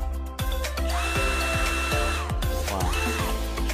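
A power drill with screwdriver bits and wood and metal drilling bits is switched on for a test, its motor whirring loudly and close, with rhythmic pulsing and pitch rising and falling as the speed changes.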